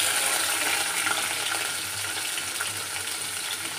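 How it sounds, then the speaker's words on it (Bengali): Shrimp fry in hot oil in a wok, giving a steady, dense, close sizzle that holds at an even level throughout with no voices. "তো চিংড়ি মাছগুলো একটু ভেজে নিচ্ছি।"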